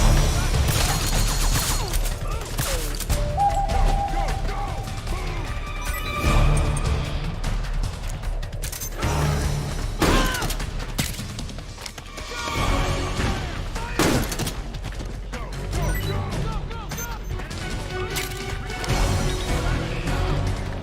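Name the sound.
gunfire in a battle, from the video game Metal Gear Solid 4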